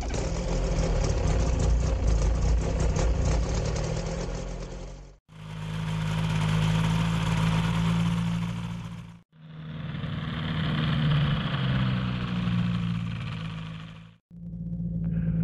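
Engine of a weight-shift microlight aircraft idling on the ground before departure, a steady loud drone in three long stretches broken by brief gaps, no voices.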